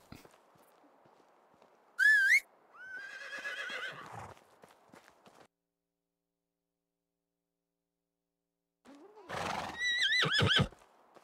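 In the medieval village game Medieval Dynasty, a donkey hauling logs lets out two loud braying, whinny-like calls separated by a quiet gap, with faint hoof clopping around them.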